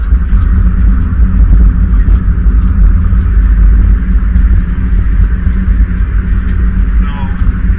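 A 1998 Honda Civic DX with a full exhaust idles, giving a loud, close, steady low rumble that holds evenly with no revving or breaks.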